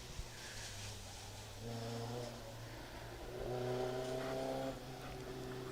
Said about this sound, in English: a car coming down the hillside behind us.